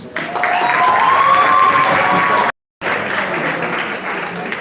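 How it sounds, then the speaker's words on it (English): A crowd applauds loudly and continuously, briefly cut off, then the clapping resumes, with some cheering mixed in. "An applause."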